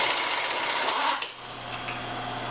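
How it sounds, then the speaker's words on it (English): Homemade impact-gun tool changer tightening the drawbar on a milling machine: a loud, rapid rattling hammer burst for about a second, then cutting off to a lower steady machine hum. "That noise you hear is a tool changer I built."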